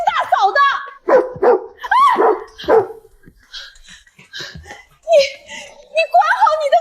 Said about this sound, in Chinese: 你管好你的狗！